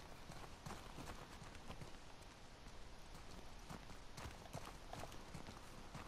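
Horse hooves clip-clopping steadily in The Last of Us Part II video game, a continuous gait of soft, fairly faint hoofbeats under a wash of ambient noise.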